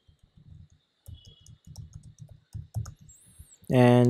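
A computer mouse clicks in a quick, irregular string of small, crisp taps, close and dry against near silence, before a louder tonal sound cuts in at the very end.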